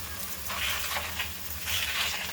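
Methi thalipeeth sizzles on a hot tava with a soft, continuous hiss and crackle, fairly faint and steady throughout with slight swells, no voices.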